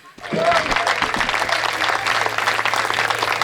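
Audience at a Hindi poetry recital breaks into sustained applause, dense clapping rising quickly and holding steady at close range, with a few whoops and voices mixed in.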